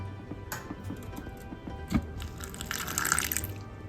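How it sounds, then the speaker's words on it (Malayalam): Water pours into a pot of kovakkai (ivy gourd) and raw mango curry, a soft, steady trickle and splash that swells toward the end, with no one talking. "അത് കഴിഞ്ഞാൽ കുറച്ച് വെള്ളം ആഡ് ചെയ്യാം"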